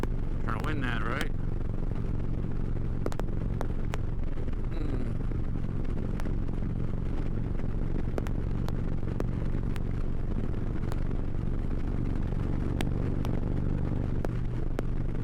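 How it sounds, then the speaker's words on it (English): Motorcycle cruising on an interstate at night, a steady loud engine drone with heavy wind rush throughout, broken by a few sharp clicks, while a rider talks over it. "Bike runs real good when it's wide, you know, we're wide open."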